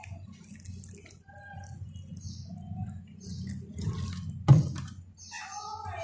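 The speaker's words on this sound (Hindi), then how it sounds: "ये अब हम इसके अंदर ये पानी डाल देते हैं" Water is poured steadily into a plant pot holding a lychee seed, a soft continuous trickle and splash with one brief louder splash near the end.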